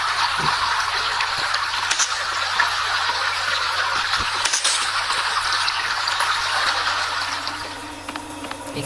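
Water gushes from a water tank in the Evil Nun horror video game, a loud, continuous rushing flow with no talk.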